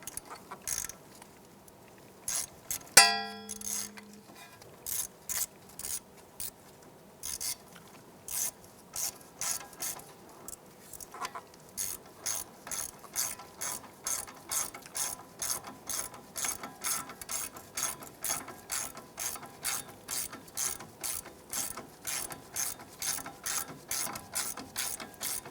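Ratchet tightening the ABS bracket bolt during strut boot and bumper work on a 2001–2007 Ford Escape: a long run of quick, evenly spaced metallic clicks that grow steady and rhythmic, close and fairly loud, with a brief clank early on.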